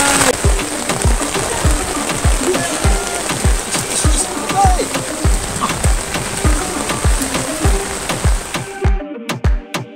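Rain pours down at a fishing pond near Ban Pong, a dense steady hiss with heavy drops pattering sharply and repeatedly on a nearby surface, loud and close, thinning into a few isolated drips at the end.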